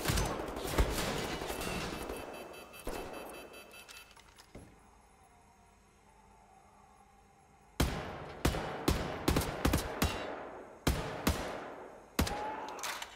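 Gunfire in Wolfenstein: The New Order, a dense stretch of rapid shots at the start, a brief lull, then a string of sharp, loud single shots spaced irregularly toward the end.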